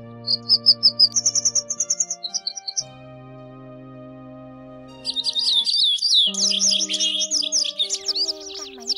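White wagtail calls ring out as repeated clear chirps and tweets, loud and close. They come first in short rhythmic bursts, then after a brief gap as a busier run of overlapping twittering notes.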